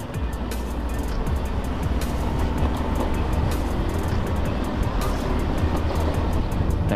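A Honda Beat FI scooter with a racing exhaust rides down an empty road in the rainy season, its engine drone blending with loud, continuous wind and road rush.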